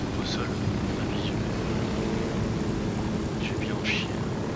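A helicopter flies in the video game Ghost Recon Wildlands, its steady broadband rotor and engine roar continuous throughout, with faint chirping calls over it.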